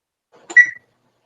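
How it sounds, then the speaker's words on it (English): A lone short electronic countdown beep, close and clear, with silence on either side. "We hear the beeps, Casey."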